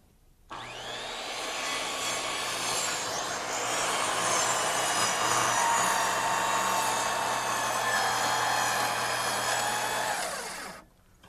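A power saw set to full blade depth makes a long rip cut through deck lumber. Its loud, continuous whine and rasp last about ten seconds before cutting off, with no talking.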